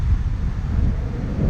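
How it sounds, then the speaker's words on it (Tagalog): Strong wind buffets the microphone in a heavy, continuous low roar. "Malakas na masyadong hangin."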